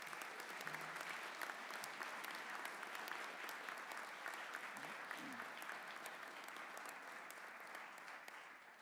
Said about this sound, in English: Let's give all of our well-deserving students one more round of applause.